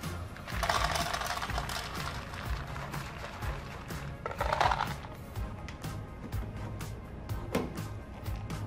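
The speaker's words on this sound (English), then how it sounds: "Next up, add your pellets." Wood pellets pour into the hopper of a GE Profile indoor smoker, a loose rattling rush of small pellets in two main surges with scattered clicks between, close and moderately loud, no talking.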